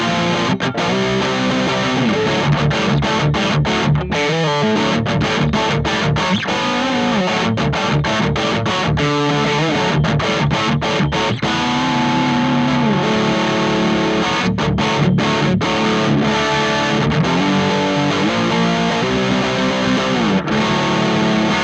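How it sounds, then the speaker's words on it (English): A Donner Hush-X travel guitar plays through heavy distortion on its bridge humbucker in passive mode with every control at maximum, producing a dense, sustained, crunchy wall of strummed chords and riffs that continues steadily throughout. "So we now have some distortion on here, and everything's up at 10,"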